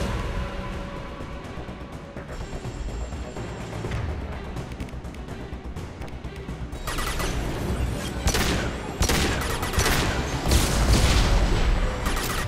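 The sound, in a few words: Locust submachine gun firing in Mass Effect 2 video game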